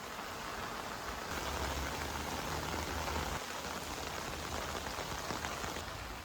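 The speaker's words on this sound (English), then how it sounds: "I put the Arete through 48 hours of non-stop rain" Heavy rain on the fly of an REI Arete ASL 2 tent makes a dense, unbroken hiss of drops drumming on taut fabric, steady and enveloping with no voices.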